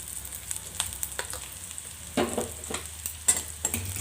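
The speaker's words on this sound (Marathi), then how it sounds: "मी याच्यामध्ये कांदा लसण टाकून घेतला आणि थोडेसे कढीपत्त्याचे पानं टाकले" Onion, garlic and curry leaves frying in a pan, a continuous close sizzle broken by irregular stirring scrapes and a few sharper spatters.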